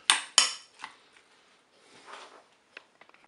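Metal spoon scraping and clinking against a bowl while sausage meat stuffing is spooned into tomatoes: two sharp close clinks, then softer scrapes, a faint wet smear and a few light taps.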